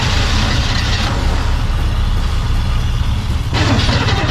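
A small engine, apparently catching fire while pumping gas, runs steadily and loud at close range, a rough low rumble that brightens with added roar about a second in and again near the end.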